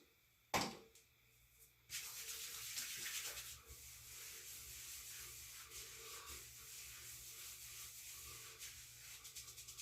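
Hands work Scotch Porter hair balm into a beard, a steady close soft rubbing and scrubbing that runs continuously after a brief sharp tap near the start.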